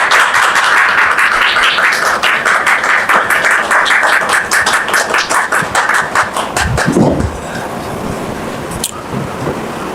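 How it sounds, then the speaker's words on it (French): Loud, dense applause from a large crowd, gradually thinning into scattered claps before fading into quieter room noise. "Merci de la recevoir sous vos applaudissements."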